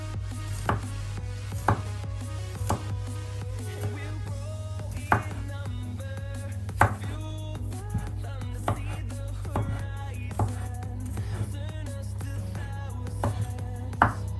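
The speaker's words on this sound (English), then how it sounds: "And the garlic, we're just gonna cut them fine." A knife chops garlic finely on a board while cooking callaloo and saltfish, the blade striking in irregular taps of uneven loudness over a steady low kitchen hum, with no talk.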